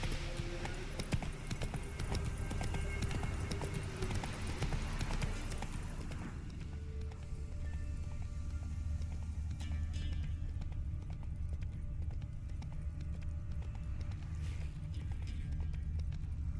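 A horse gallops in the video game The Witcher 3, with quick, steady hoofbeat clip-clops at moderate volume, busier at first, then settling into a lighter rhythmic trot over the game's ambient background.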